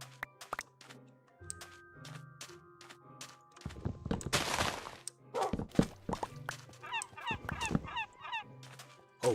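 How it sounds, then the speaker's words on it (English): Seagulls in the Better Minecraft modpack give repeated squawking calls amid scattered thumps and clatters, one burst of noisy rushing sound, with calls coming in irregular clusters. "Oh, we have found a seagull."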